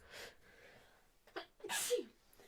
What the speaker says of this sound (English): I'm sneezing a lot lately.